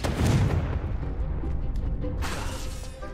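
The Confringo explosive fire spell from the video game Hogwarts Legacy bursts out as a loud, booming blast with a crackling, gunfire-like rush that fades over about three seconds.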